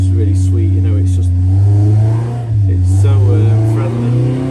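A Benoy 1200cc engine hums and rises in pitch as it revs, a steady mid-range drone that swells and dips, with a person talking over it throughout.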